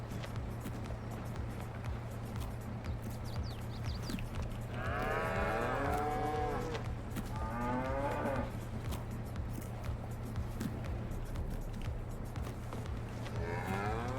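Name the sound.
cows eating, from the video game Farming Simulator 22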